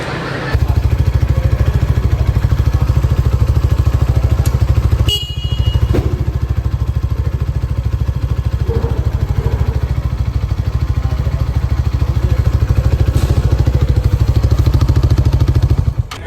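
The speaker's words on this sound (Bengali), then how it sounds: "বাইকটি এখন স্টার্ট দিয়ে সাউন্ড শুনবো আমরা।" A Hero Xtreme 160R 4V motorcycle starts with a brief crank, then its single-cylinder engine settles into a steady, loud, close idle that runs on without a break.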